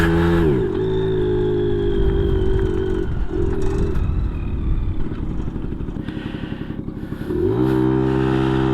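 A 1980 Yamaha Towny scooter restarting after refuelling, its small engine catching with a stuttering clatter and then settling into a loud, steady close-range putter that dips and picks back up.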